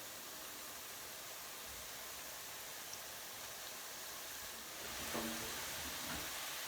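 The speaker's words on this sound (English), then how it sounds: "Oh, listen to that noise, the magic frying noise." Aubergines frying in hot oil give a steady broadband sizzle that stays even throughout and swells slightly louder near the end, with no one talking.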